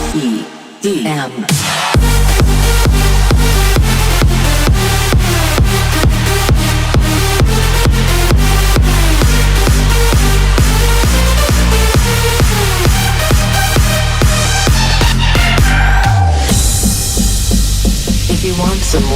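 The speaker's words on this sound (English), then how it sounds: "This is the sound of EDM." An EDM electronic dance track pounds with a driving four-on-the-floor kick, pulsing bass and dense layered synths at a steady fast tempo, loud throughout, with a brief break near the start and a sweeping riser near the end.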